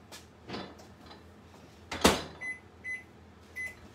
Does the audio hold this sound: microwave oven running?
yes